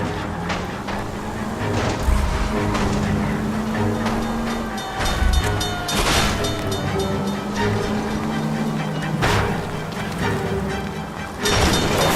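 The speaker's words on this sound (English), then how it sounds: "Suspect is in control of the streetcar and driving dangerously." Streetcar rolling on rails during a chase in the video game LA Noire, a loud rumbling run with metallic squeals and clanks, overlaid by game dialogue and score.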